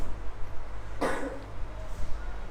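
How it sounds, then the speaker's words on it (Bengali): A single cough bursts out about a second in, close and fairly loud, over a low steady hum in a classroom-style lecture setting. "কাশি হচ্ছে।"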